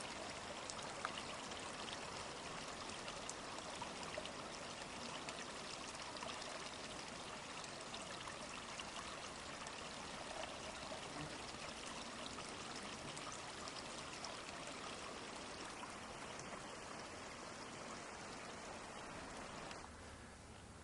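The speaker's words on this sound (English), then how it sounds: "Definitely water flows through here." A forest creek flows in an unbroken, hissing wash of running water, steady and fairly soft throughout with no voices over it.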